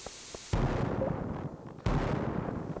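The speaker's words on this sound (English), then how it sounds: "We have 175 bombs left, which is enough to do a little damage" Bombs exploding in the farming game Stardew Valley, two sharp booming blasts a little over a second apart, each followed by a rumbling decay, loud and near.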